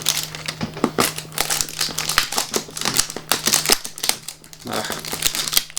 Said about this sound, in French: Donc là, hop, on va le déballer directement.